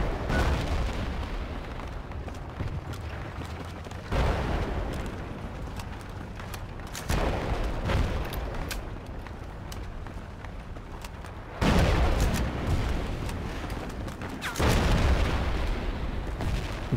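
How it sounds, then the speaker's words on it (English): Tank cannon fire and explosions in the game Project Reality, heavy booms landing every few seconds, each followed by a rumbling, rolling tail, loud and close, with almost no talk. "Oh shit, is the tank on me? Yeah, I can hear the tank."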